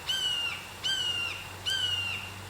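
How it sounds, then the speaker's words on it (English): Three evenly spaced bird calls, squawky and chirping, each followed by a pause, set against a quiet outdoor background. "All you hear are the birds chirping"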